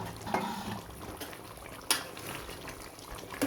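Duck meat curry is stirred in a pot, with wet, liquid churning and a few sharp clinks of a utensil against the metal, all close and moderately loud.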